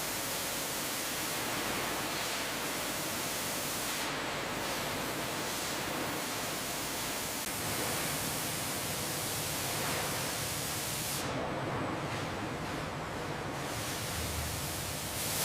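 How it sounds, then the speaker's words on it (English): Operational fluids drain into reclamation tanks on an automatic tilting jig in a commercial jet engine plant, a steady, even broadband rush of liquid that continues unbroken throughout. "The operational fluids flow smoothly into the reclamation tanks."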